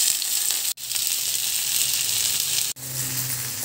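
Onion, garlic and tomato sizzle in olive oil in a pan, a bright, steady frying hiss broken by two brief dropouts, close and fairly loud.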